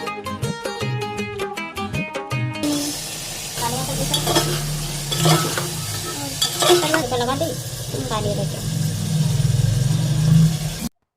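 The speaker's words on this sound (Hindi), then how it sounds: "यहाँ पर मम्मी तहरी छौंक दे रही है" Oil sizzles loudly as spices hit a hot pan to temper tahri, a rice dish, crackling steadily with stirring scrapes, after a short burst of music at the start.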